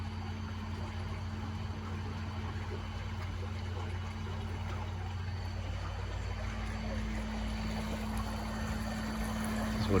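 Twin Torqeedo 2.0 electric outboard motors push a 3-ton sailboat through calm water. A steady low electric hum and motor whine hold under soft water swish, fairly quiet and continuous.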